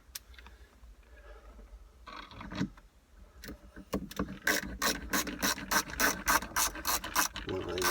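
A ratchet wrench clicks steadily while backing out Torx T30 screws on the roof of a Porsche Boxster 986, rapid close metallic pawl ticks in repeated strokes after a few quieter handling noises.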